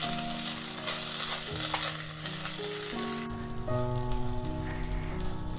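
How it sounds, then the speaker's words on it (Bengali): Gobindobhog rice frying in a wok, a soft continuous sizzle and light crackle heard beneath steady background music, with no talking. "আমি চালটাকে 2 মিনিট মতো সময় ধরে একটু ভেজে নিচ্ছি।"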